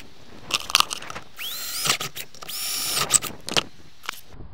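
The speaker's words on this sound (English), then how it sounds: "there's all the holes drilled for this side" A power drill bores mounting holes for solar panels on a VW T4 campervan conversion, two rising whirring bursts with crunchy bit clicks between them, close and fairly quiet with no talk.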